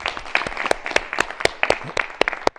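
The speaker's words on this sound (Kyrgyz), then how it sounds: "Кол чаап койбойлубу?" Scattered handclaps from a small audience at a youth event about the state language, sharp distinct claps in an uneven, thinning rhythm rather than a full ovation.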